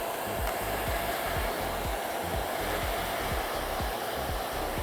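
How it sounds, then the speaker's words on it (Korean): A handheld hair dryer blows steadily and loudly at close range, drying freshly combed, heavily damaged hair before a perm treatment, with a constant airy roar and no talking. "얘가 들어갈 수 있는 열을 드라이기로 말릴게요."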